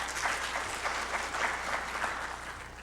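Moderate audience applause greeting a speaker at a wage and hour management training session; even clapping from a room full of people, steady and fairly soft, lasting a few seconds without voices.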